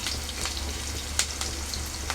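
Ginger garlic paste fries with onions and curry leaves in a pan for a cabbage curry, making a steady, close hissing sizzle with light crackles and one sharper pop.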